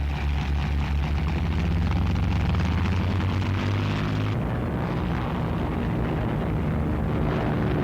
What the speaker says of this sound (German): Geschwader von Schlacht- und Jagdflugzeugen starten.